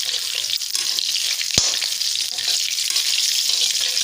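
Spices for a fish curry frying in a pan, giving a constant bright hiss and sizzle close by, with one sharp knock of a utensil partway through.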